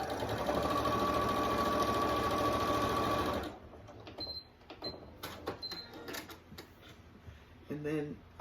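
A sewing machine hums in a fast, steady stitching run while sewing a photo ID pouch, then stops, leaving scattered clicks and handling knocks with a person speaking nearby.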